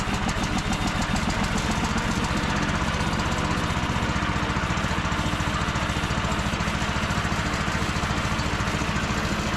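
A T-18S tractor engine runs loud and steady at close range, with a continuous rapid chugging throb and no let-up.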